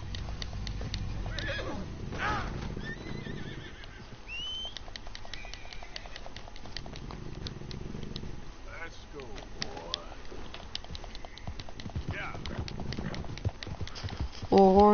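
A horse in the video game Red Dead Redemption 2 clip-clops along with steady hoofbeats and lets out whinnies and snorts, with birdsong and ambient game sounds around it, and a voice talking over parts of it.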